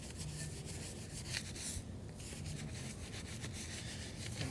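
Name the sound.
brush scrubbing BMW wheel behind brake caliper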